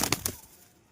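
A brief flurry of pigeon wings: three quick, close flaps in rapid succession, then near silence.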